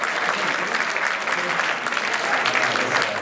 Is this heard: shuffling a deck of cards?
no